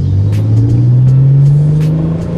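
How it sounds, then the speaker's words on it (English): A Hyundai Genesis Coupe with a modded stock muffler revs steadily and loudly close by, its exhaust tone climbing slightly across the short stretch with no voices. "let's see what we have with this exhaust."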